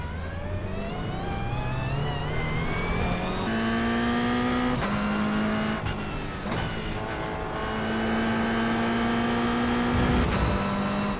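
A race car engine in a racing video game at Brands Hatch, revving and holding a steady high drone that shifts pitch as the car accelerates and changes gear, loud and continuous with no talk over it.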